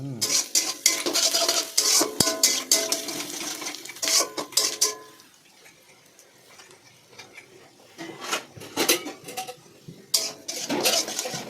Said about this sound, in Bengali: ভেজে নেবো পেঁয়াজটা